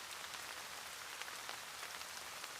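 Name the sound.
rain falling in anime scene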